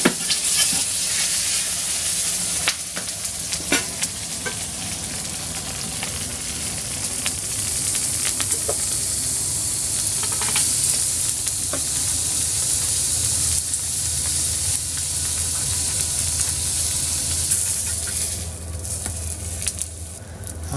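A venison burger sizzles on a hot grill, a loud, continuous frying hiss that holds steady throughout, with occasional small pops and crackles.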